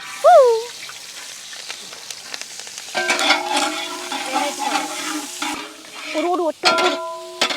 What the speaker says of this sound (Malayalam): ചൂടായ എണ്ണയ്ക്ക് ഉള്ളിയും പച്ചമുളകും അരി വെച്ചിട്ട് ഇട്ട് കൊടുക്കാം.